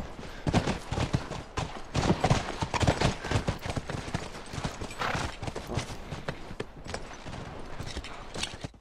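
Rapid clip-clopping of horse hooves in the video game The Last of Us, loud and continuous, a dense galloping rhythm with no talking.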